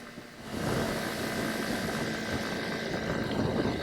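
A Honda CB300R naked sport motorcycle is ridden with a steady, rushing engine drone blended with wind roar, loud and continuous throughout with no voices.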